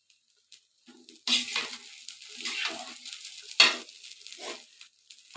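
Rice and lentils sautéing in a pot, stirred with a utensil, give a close, crackling sizzle with bursts of scraping and stirring that rise and fall over a few seconds; no one speaks.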